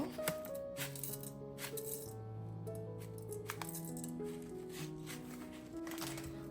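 Panch phoron spice seeds drop into oil in a pan over medium heat, making a faint, soft rattle and patter under quiet melodic background music.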